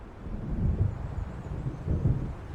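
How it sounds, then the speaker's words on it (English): Low thunder rumbles in the Alan Wake Remastered video game, two swelling rolls of a coming storm, moderately loud with no voices. "It seems there's a storm coming."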